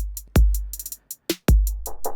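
A Roland MC-707 groovebox playing a drum pattern, with punchy low kick hits and crisp hi-hat ticks in an uneven, looping rhythm, loud and close with no talk.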